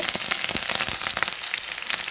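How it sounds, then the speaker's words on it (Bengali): Cumin seeds, a chopped bay leaf and green chillies fry in hot oil, giving a steady, close crackling sizzle with rapid pops throughout and no voices. "এখন দিয়ে দিলাম কিছুটা কাঁচামরিচ। এটা আমি একটু ভেজে নেব।"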